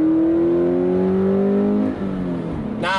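A 2020 Toyota GT86 sports car engine idles with a steady drone, then its pitch drops and shifts, ending with a brief higher rev.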